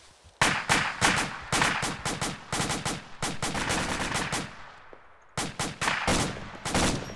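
Rapid bursts of automatic gunfire in a video game training mission for fireteam movement, with sharp repeated shots in clusters, a brief lull, then more volleys at moderate distance.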